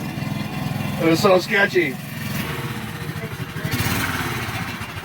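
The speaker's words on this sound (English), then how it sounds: "That engine's probably about toast." A Heathkit Boonie Bike (Heald VT-1) minibike with a worn-out engine and a bad clutch runs with a steady, rattly low chug throughout, while a person talks over it.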